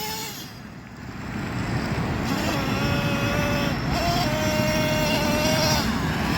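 A Traxxas Nitro Revo RC truck's nitro engine runs at a steady, buzzing idle that sounds slightly loaded up, a constant close drone with a thin whine riding on top.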